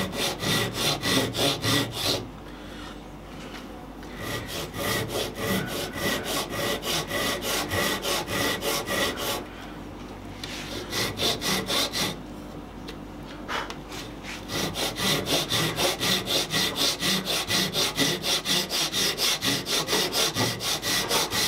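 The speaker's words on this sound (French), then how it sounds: "à l'aide de ma scie japonaise, je vais venir manger" Steady back-and-forth strokes of a Japanese handsaw biting through wood, close and continuous, with two brief pauses between runs of cutting.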